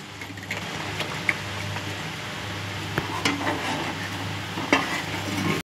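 Ground spice paste being stirred with a splash of water in a kitchen pot, preparing a coating for surmai fish; a steady wet scraping and swishing runs throughout, close and moderately loud, with a few sharper clinks.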